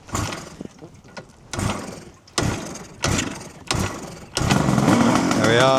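A 1974 Kawasaki 750cc two-stroke triple motorcycle with aftermarket expansion chambers is kick-started with choke on: several separate heavy kick strokes, then the engine catches and runs loud and steady near the end, with a brief spoken remark.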